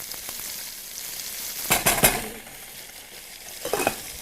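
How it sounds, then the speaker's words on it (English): A utensil stirring couscous in a pot of boiling water on a stovetop, a soft simmering hiss with a few sharp scraping and clinking bursts against the pot. "Give it a stir."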